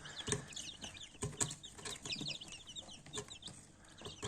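Chicks of a Spanish breed chirp and cheep busily in a farmyard, many high peeps overlapping at close range with a few louder clucks and brief wing flutters, no voices.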